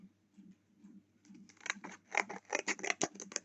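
Scissors snip through paper for a lemon-themed mini album, starting with a few faint cuts and building into a rapid run of crisp, close snips.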